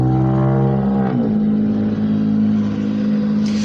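A pickup truck engine revs and drones close by, with a gear-like pitch shift about a second in, then a steady loud rumble that holds to the end with no voices.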